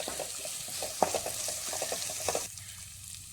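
Chopped green chillies sautéing in a hot pan with oil, a steady soft sizzle broken by scraping stirs, close and fairly quiet, with no one talking.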